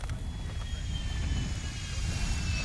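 Steady low rumbling drone of a helicopter in the Call of Duty Mobile DMZ video game, continuous and fairly loud throughout with no breaks.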